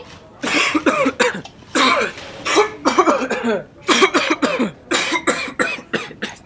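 Someone coughs repeatedly in harsh bursts, with short pauses between them, close to the listener.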